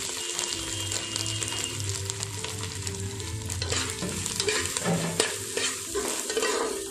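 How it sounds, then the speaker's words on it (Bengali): Grated coconut frying with cumin in a pan for bhog khichuri, a continuous close sizzle with frequent scraping stirs and occasional sharper clinks of the spatula, no talking. "নারকেলটাকে আমি লাল করে ভেজে নেব।"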